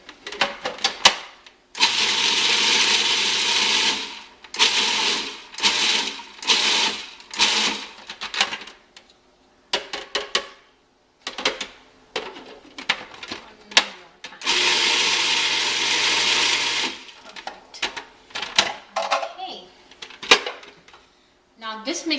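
A kitchen blender pulses a gujia mixture in short whirring bursts, two longer runs and many quick stop-start pulses, loud and close with brief silences between.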